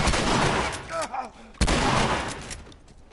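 Booming shotgun blasts in the video game The Last of Us, two heavy reports with rolling echoes, loud and close over game noise, with a voice briefly under the first.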